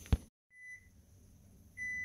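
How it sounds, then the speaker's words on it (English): Kitchen timer beeping during the making of chile rellenos: a thin electronic tone sounds briefly, then starts again as a steady beep near the end, faint over quiet room noise, with no voices. "that's our timer going off"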